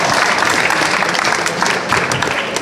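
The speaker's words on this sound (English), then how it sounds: "please give a big applause to HippoBuild" A crowd applauds a startup pitch at a young entrepreneurs' sustainability event, dense continuous clapping that stays loud and even from start to finish.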